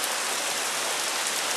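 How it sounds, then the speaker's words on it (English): Steady rain falling outdoors, a dense even hiss of drops spread across the whole clip with no voices over it. "Y'all can hear the rain"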